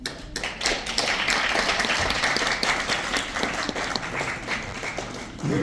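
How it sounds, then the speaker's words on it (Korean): An audience at an awards ceremony applauds to welcome a soprano and a pianist, dense sustained clapping filling the room for several seconds before tapering off at the end. "큰 박수로 맞아주십시오."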